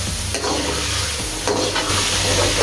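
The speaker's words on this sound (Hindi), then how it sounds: "2-3 हरी मिर्च है, इसको डाल देंगे और इसको भी हम 2 से 3 मिनट इसके साथ बुनाई कर लेते हैं इसकी" Tomatoes and green chillies sautéing in a pan for mixed vegetable pulao, a steady loud sizzle with stirring scrapes running throughout.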